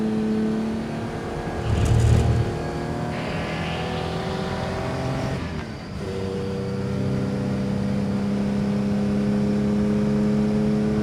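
A 1954 Aston Martin DB2/4 lapping a track, its engine droning steadily at close range with a brief throttle surge early on and a short dip mid-way, otherwise a constant, even hum with no talk.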